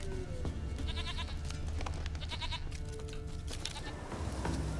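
A goat in The Witcher 3: Wild Hunt bleats repeatedly in short wavering calls over dense, continuous game ambience and music, with no talking.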